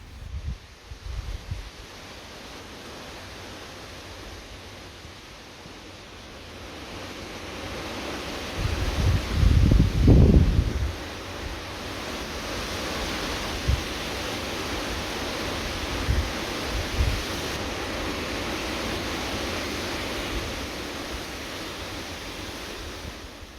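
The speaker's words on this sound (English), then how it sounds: "a blustery afternoon in Tisbury. He's sitting under his sycamore tree in his garden." A blustery afternoon wind in a garden in Tisbury, heard from under a sycamore tree: a steady broad rushing that swells into a louder gust midway, then settles into a sustained roar.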